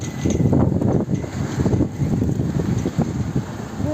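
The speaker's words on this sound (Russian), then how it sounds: "Ребята, смотрите, какой у нас ветер." Strong wind gusts outdoors on a rural farmstead as a storm rolls in, buffeting the microphone with continuous rough, fluttering rumble that rises and falls in waves.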